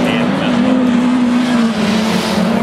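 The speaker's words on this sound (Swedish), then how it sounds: "Det där är Daniel Lisems vita Volvo 240 som han har lånat ut till en klubbkompis som åker" A white Volvo 240 rallycross car races in an ice-track heat, its engine droning loud and steady throughout, mixed with a sustained roar of racing noise and a commentator speaking over it.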